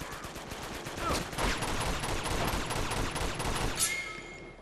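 Rapid gunfire in a video game, dense bursts of shots crackling continuously for several seconds, loud and close, with faint talk underneath.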